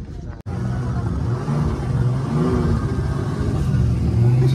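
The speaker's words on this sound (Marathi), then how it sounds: "चालू झाले आणि अरे झाले इंजिन चालू. पाठीमाग बघ आवाज येतो की नाही तुला." A boat engine starts and runs at Tarkarli beach in Malvan, giving a steady, loud low rumble after a brief break at the start.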